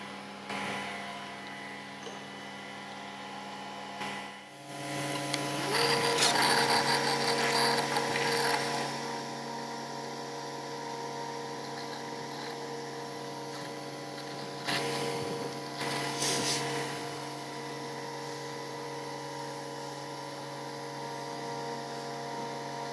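Steady mechanical whir of a Festool Conturo KA 65 edge bander applying edge lipping, a constant close machine hum with a louder feeding surge near the start and a brief lift midway.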